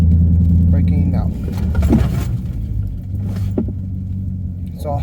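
A car brakes hard from 30 miles an hour during a braking-distance test of tires, with steady low engine and road rumble inside the cabin that eases as it slows, and a voice talking over it.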